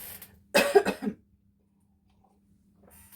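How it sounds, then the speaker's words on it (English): A single close, brief bout of coughing, a couple of quick hacks, followed by near silence. "I am going to stop just for a second, and I'm going to cough."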